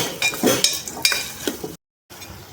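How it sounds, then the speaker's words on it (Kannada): Spices with garam masala fry in a pan as a utensil stirs and scrapes, short clattering strokes with a soft sizzle underneath, close and moderately loud, cut by a brief silent gap. "ಇದಿಷ್ಟು ಹಾಕಿ ಈಗ ಚೆನ್ನಾಗಿ ಫ್ರೈ ಮಾಡ್ಕೊಳ್ಳೋಣ"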